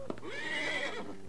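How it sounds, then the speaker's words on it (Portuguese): A single horse whinny from the video game Survivalcraft 2, a short, bright, wavering neigh rising and falling over about a second, heard close and clear after a couple of soft thumps. "Se é um cavalo ou é um burro?"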